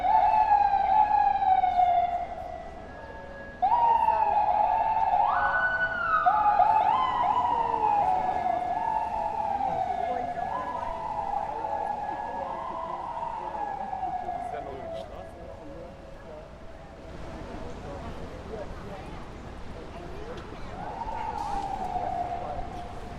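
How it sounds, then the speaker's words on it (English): An ambulance siren wails and sweeps up and down for a long stretch, steady and fairly close, on Fifth Avenue in New York City, with faint street noise and murmuring voices underneath. "Looks like there's an ambulance trying to get by."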